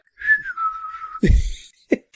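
A person imitates a whistle, one clear falling note held for about a second, followed by a short burst of noise and a brief vocal sound.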